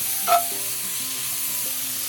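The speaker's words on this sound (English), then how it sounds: "Saute that a little bit." Breakfast hash sautéing in butter on a Lodge Sportsman cast iron grill over a rocket stove, a soft steady sizzle with a brief clatter near the start and a low hum beneath.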